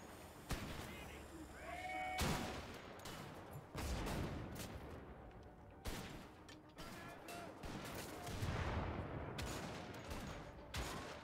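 Gunfire in Wolfenstein: The Old Blood: repeated loud bursts and fusillades of shots with heavy thumps, nearly continuous over the whole stretch, with brief gaps between volleys.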